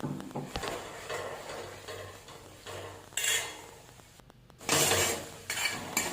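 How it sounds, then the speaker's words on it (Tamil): A spoon scrapes and clinks against a pan as grated coconut is mixed into a cooked dish, in irregular bursts of stirring with short pauses and no talking. "இப்போ நான் தேங்காய் வந்து நம்ம திருகுனா மாதிரி இருக்குதுல்ல, அதை வந்து போட்டு நம்ம நல்லா மிக்ஸ் பண்ணி விட்டுக்கலாம்"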